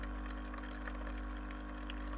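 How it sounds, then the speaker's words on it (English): Water pours steadily from a Tommee Tippee Perfect Prep machine into a baby bottle, a continuous soft liquid stream over a low constant machine hum, with no talking. "that will pour out the full contents of water into the bottle"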